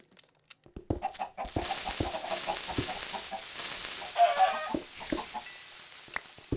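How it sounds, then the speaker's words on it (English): Chicken clucking in the video game Minecraft, played in the Crazy Craft modpack, a few soft clucks over faint game ambience with scattered footsteps and clicks. "Oh, chicken."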